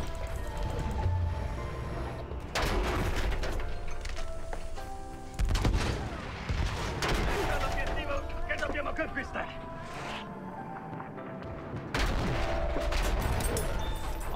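Gunfire and explosions from a Battlefield 1 Operations match with dreadnought battles, bursts of shots and booms layered densely under a player talking excitedly over the game.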